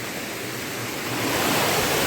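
Water pouring down over a dam, a steady broadband rush that swells slightly louder toward the end, continuous and close with no voices.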